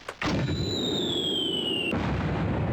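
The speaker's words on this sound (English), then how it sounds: "So let's try to blow up that other mortar encampment there." A mortar encampment is blown up in the video game Army Men, with one sharp blast near the start followed by a steady, loud roar of rumbling explosion and battle noise, plus a high whistling tone that slowly falls in pitch.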